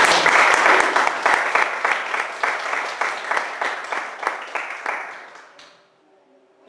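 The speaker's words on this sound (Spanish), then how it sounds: "Denle un aplauso a Dios por eso." A church congregation applauds loudly with steady, dense clapping that gradually thins out and fades to near silence at the end.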